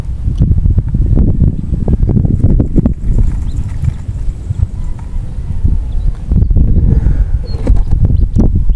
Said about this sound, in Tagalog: Sabi mo hangin, Ted.